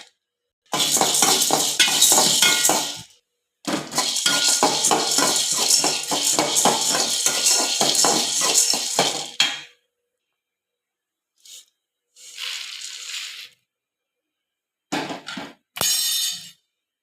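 Black pepper, chana dal and toor dal dry-roast in a pan with just a drop of oil, giving loud bursts of rattling, clattering grains as they are stirred, separated by pauses and ending in a few shorter scrapes.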